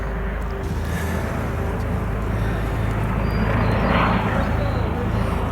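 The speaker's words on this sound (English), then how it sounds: "The choppers are circling overhead." Helicopters circle overhead above an old-growth hemlock forest during a logging protest, a continuous loud rotor and engine rumble that swells toward the middle and keeps going under a voice.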